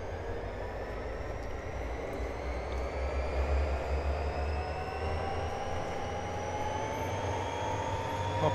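A locomotive engine in Train Simulator 2014 runs with a steady, loud drone and low rumble, a continuous mechanical hum that holds throughout with no voices.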